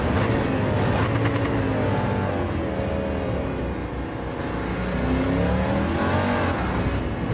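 Race car engines in Gran Turismo 7 on an icy track roar steadily and close, with pitch rising and falling as the cars accelerate and shift, one engine droning under another.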